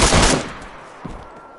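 A single loud gunshot in the video game DayZ blasts at the start and decays into a fading echo, followed by a faint distant pop, with no talking.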